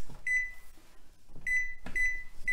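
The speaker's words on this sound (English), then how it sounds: "So I need to turn on the oven for 350." Oven control panel being set to 350 degrees gives out a series of short electronic beeps, three spaced tones followed by a quick fourth, clear and close in a quiet kitchen.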